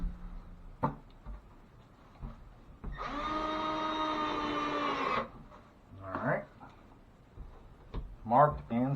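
A drill drives a 1.25-inch screw through half-inch sheetrock into a bathroom wall stud, a steady whirring buzz lasting about two seconds between quieter handling clicks and taps.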